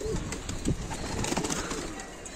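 Adana pigeons cooing in a loft, soft low repeated coos against a busy background hiss, close by and fairly faint, with no voices.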